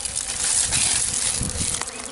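Bees buzz steadily and densely around a beehive entrance while robber bees try to force their way in, with a close, continuous drone and occasional sharper passes.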